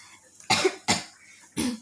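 Three close, harsh coughs from one person, two in quick succession and a third after a short pause.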